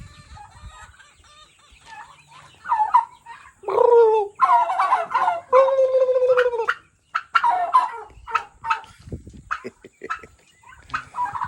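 A tom turkey and other turkeys on a farm gobble repeatedly in loud, close bursts, warbling rattling calls overlapping one another with brief gaps between.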